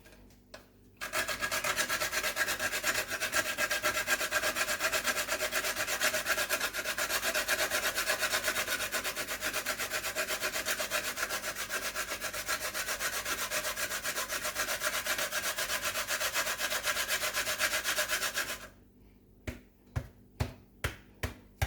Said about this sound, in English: I'm gonna grate it.